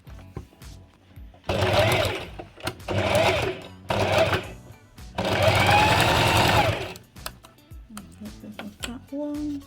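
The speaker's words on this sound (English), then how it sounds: "So just sew everything up before you do the ironing." Sewing machine stitching fabric scraps together for a bag, running in several loud bursts of rapid mechanical chatter separated by short pauses, with quieter handling noises between runs.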